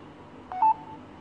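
A short electronic beep-tone from an LG K9 smartphone as TalkBack accessibility switches on, a single clear tone around a half second long over a quiet background hiss.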